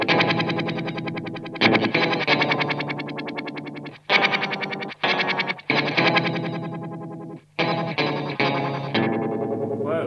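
Electric guitar played through a NUX Mod Core modulation pedal set to a detuned pitch effect, giving loud, wobbling chords in bursts with brief gaps between them.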